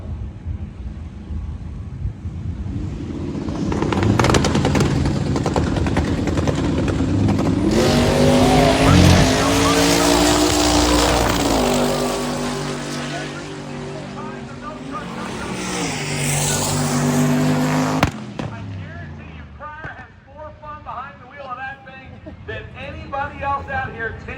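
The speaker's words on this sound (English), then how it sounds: "a really cool pair of nostalgia classics on the starting line" Classic nostalgia cars, including a 1957 Chevy Bel Air, roar loudly in a drag race, their engines revving and surging for about twenty seconds before dropping away, with an announcer's voice over the noise.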